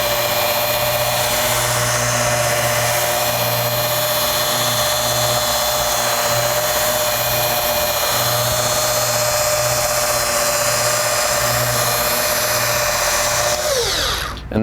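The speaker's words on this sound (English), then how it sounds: "And that's how you use a wool pad with a rotary buffer." A rotary buffer polisher with a wool pad runs at about 1,000 RPM on car paint, a loud, steady high-pitched motor whine and buzz held throughout, then spinning down sharply at the very end.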